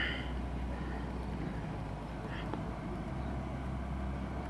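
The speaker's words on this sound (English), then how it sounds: "This thing also has an obnoxiously loud fan." Loud, steady cooling-fan whir from a Pyle car amplifier, a constant low hum with broadband hiss running unbroken throughout, close and alone.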